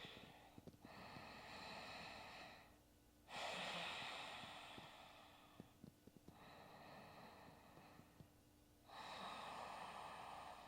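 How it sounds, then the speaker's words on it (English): Deep breathing during a stretching exercise, slow long inhales and exhales alternating in a steady rhythm, airy and close to the microphone, with no talk. "Take about 5 more deep breaths here."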